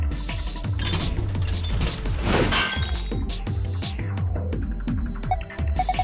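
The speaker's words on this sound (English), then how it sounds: "The glass is broken." A glass shield shatters in a video game amid a run of throbbing mechanical clanks and ratcheting gear sounds, repeated rhythmic thuds with a bright breaking crash near the middle, loud and close with no speech.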